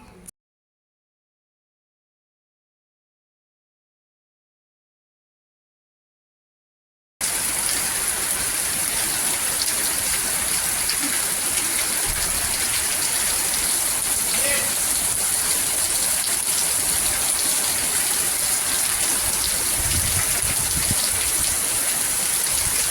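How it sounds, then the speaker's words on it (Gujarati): Heavy downpour in Junagadh, a steady dense hiss of rain falling continuously and loudly for most of the stretch after an initial silence. "જૂનાગઢમાં ગઈકાલે દિવસ દરમિયાન અને સાંજ દરમિયાન ધોધમાર વરસાદ વરસ્યો હતો"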